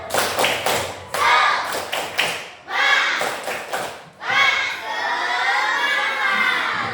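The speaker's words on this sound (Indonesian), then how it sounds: "Tangannya diangkat. Tepuk semangat." A classroom of children performing the Indonesian 'tepuk semangat' clap chant: bursts of rhythmic clapping alternate with loud, shouted group chanting, close and energetic, ending in a sustained cheer.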